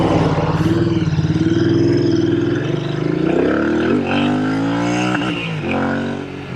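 A Rumely Oil Pull tractor engine, an International 8-65, revs hard and climbs in pitch until it bounces off the rev limiter, loud and close, with no talking over the sustained roar.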